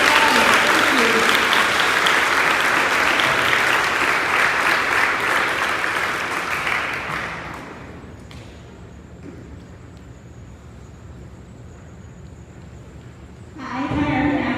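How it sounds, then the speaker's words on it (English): Loud, dense applause from a middle school awards audience honoring student starters, sustained for about seven seconds before fading to a quiet room, then clapping briefly swells again at the very end. "Please join me in one more round of applause for all of our starters."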